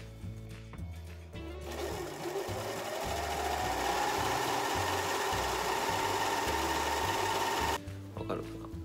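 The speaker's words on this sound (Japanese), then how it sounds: "このロックミシンで四方をこうほつれ止めロックミシンをちょっとかけていきます。" An overlock serger machine finishes the edges of fabric, running as a steady fast mechanical whir close by after brief starts, with no talk over it.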